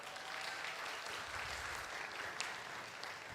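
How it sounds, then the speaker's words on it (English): A room of new international students at an orientation day claps steadily for a staff member, a dense, even patter of hands lasting a few seconds with no talking. "Give applause."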